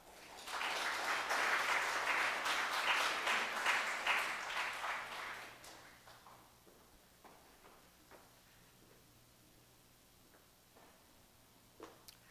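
An audience at an artist talk at UBC Okanagan welcomes artist Samuel Roy-Bois with dense, steady applause for about five seconds, which then dies away to a few scattered claps and quiet room tone.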